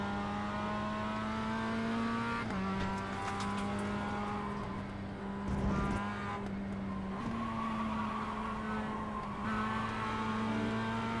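A race car engine in a racing video game holds steady harmonic drones that shift in pitch as throttle is lifted and reapplied under braking for a right-hand corner, with a brief lower dip mid-clip; loud and continuous, with no talk.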